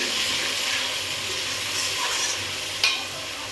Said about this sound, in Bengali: অল্প পরিমাণে আমি জল দিয়ে দিলাম যাতে ভালো মতন মশলাটা কষানো হয়ে যায়